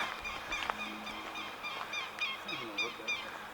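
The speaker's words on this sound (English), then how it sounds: "Birds are distracting me." Repeated honking calls of geese or similar fowl outdoors in an abandoned mining ghost town, a string of short nasal cries at moderate distance, fairly faint over quiet ambience.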